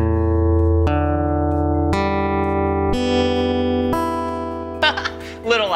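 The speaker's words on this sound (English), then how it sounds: "when you strum the strings, it makes some noise" Guitar strings strummed at a children's science museum, slightly out of tune, several ringing chords in a row each fading into the next, close and clear, with a brief burst of other noise at the end.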